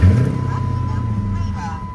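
Chrysler 300C fitted with long tube headers idles after a cold start on a cool day, a low loud rumble with a rapid pulsing beat and a steady whine on top, close by.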